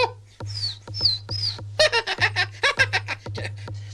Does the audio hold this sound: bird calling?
yes